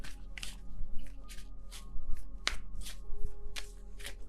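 Tarot cards are shuffled in quick, soft riffling bursts, several brisk flurries close by against a faint low hum.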